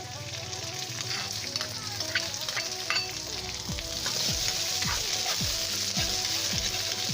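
White onion sizzles steadily in a hot pan for pork sisig, with dense continuous frying crackle and occasional stirring scrapes, close and fairly loud with no talk.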